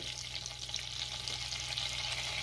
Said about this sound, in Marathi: तेल आणि बटर गरम झालेले आहे। आता आपण ह्यामध्ये पावडर मसाले घालूया, हळद,